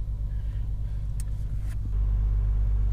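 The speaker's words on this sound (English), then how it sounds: "So it looks like the tow truck that came to get us is stuck." A stuck tow truck's engine rumbles steadily up close while trying to pull free, then swells louder and heavier as it revs near the end, with no talk.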